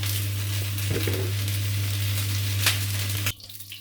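Cooking oil in a hot pan on a stove sizzling steadily as sahog for an ampalaya and lechon baboy dish fries, close and loud with a constant low hum, then cutting off sharply near the end.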